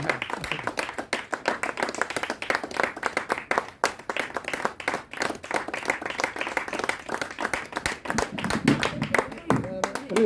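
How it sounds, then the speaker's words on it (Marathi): An audience at a memorial award ceremony claps in a crowd, a sharp, dense rhythm of individual hand claps running throughout, with a voice briefly heard near the end. "आणि सरांचा सन्मान होत असताना प्रचंड टाळ्यांच्या गजरामध्ये आपण त्यांचं स्वागत करायचं"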